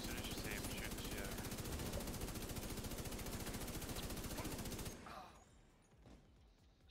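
Sustained automatic gunfire in the shooter game The Division 2 rattles loud and dense for several seconds, then cuts off abruptly, leaving quieter background sound and faint voices.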